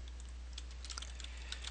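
Quiet keystrokes on a Commodore 64 computer keyboard while writing a BASIC program, a light irregular patter of clicks over a steady low hum, with no talking.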